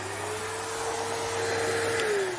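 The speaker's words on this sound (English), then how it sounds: "I'm going to vacuum around the fire" Household vacuum cleaning around a fireplace indoors, running steadily with a constant motor whine and airy rush, its pitch shifting slightly, moderately loud and heard without talk.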